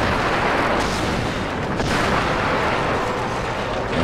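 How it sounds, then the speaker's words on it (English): Sustained, dense gunfire in the Dead Space video game as a monster is shot, a loud, continuous roar of weapon blasts with no clear gaps between shots. "You can shoot it right there in the shoulder."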